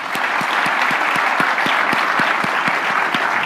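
Steady audience applause after a guest speaker's talk, a dense continuous clapping crowd with a few sharper individual claps standing out.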